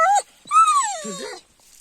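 A dog whimpers in two short, high whining bursts, the second longer and wavering, close by with brief quiet between.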